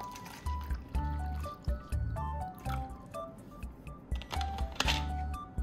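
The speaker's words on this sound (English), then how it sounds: "I'll prepare a cup of water." Water poured into a cup gives a quiet, irregular run of drips, splashes and trickles that comes and goes in short bursts.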